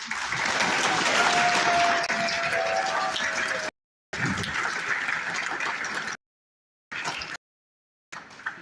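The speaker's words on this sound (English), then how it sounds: "Can they get a preemptive round of applause?" A school choir concert audience claps for the student soloists, a loud, dense burst of applause broken by abrupt gaps of silence, resuming in shorter stretches toward the end.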